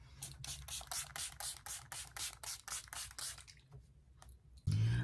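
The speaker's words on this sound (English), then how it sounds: "So now I am going to spray my face with the" Cream Dreamsicle setting spray mists onto a face in about a dozen quick, rhythmic pumps, close and soft, ending with a brief louder thump.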